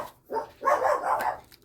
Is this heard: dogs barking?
yes